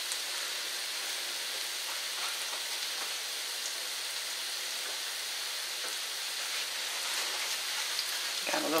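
Squash patties coated in cornmeal and flour fry in a pan with a steady, even sizzle like light rain, close and continuous throughout, with faint clinks near the end.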